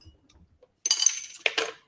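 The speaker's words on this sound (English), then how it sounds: "So I'm going to add some light tonic water." Light tonic water poured into a glass for an alcohol-free cocktail: after near silence, a sudden fizzing, splashing hiss with a brief clink, stopping and then resuming for a second burst.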